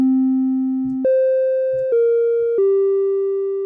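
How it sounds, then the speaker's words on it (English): A synthesized bell-like tone patched in VCV Rack, set with a short attack and long release, plays four sustained pitched notes in a row, each starting instantly and ringing steadily with bright overtones, loud and alone. "this is bell, short attack and long release"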